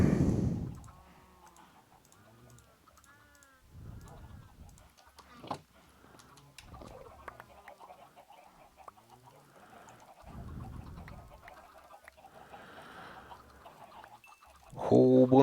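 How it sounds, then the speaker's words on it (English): Baby chickens in the Minecraft video game cluck and peep in short, scattered calls alongside soft clicking, with a few louder bursts in between. "Whole bunch of baby chickens."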